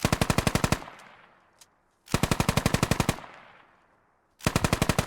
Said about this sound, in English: Oh, we're taking shots.